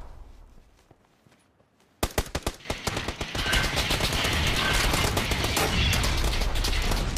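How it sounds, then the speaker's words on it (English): Gunfire in the PUBG video game: after a quiet start, a burst of sharp shots breaks out, then dense rapid automatic fire continues loud and sustained. "They are all shooting at 35."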